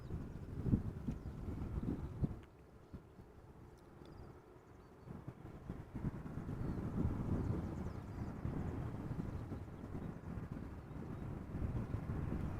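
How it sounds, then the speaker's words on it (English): A KLM Boeing 787-10 Dreamliner arriving at Amsterdam Schiphol from Delhi, heard as a distant, fairly faint low jet rumble with wind noise, dipping briefly before swelling to a steady drone. "So this is KLM flight 872, Boeing 787-10 Dreamliner arriving from Delhi"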